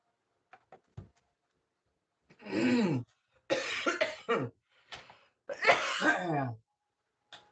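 A few faint clicks, then a series of loud, harsh coughs in separate bursts, close and dry, with short pauses between them.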